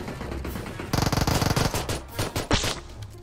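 A rapid string of PUBG Mobile gunshots rattles close and loud in an even automatic burst, followed by a few scattered single shots over steady game background noise.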